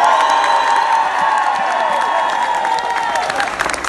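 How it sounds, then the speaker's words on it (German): The right side of an open-air Schlager festival crowd in Osterode am Harz claps and cheers, a loud, dense roar of applause with whoops that holds steady and thins slightly toward the end. "Applaus von rechts."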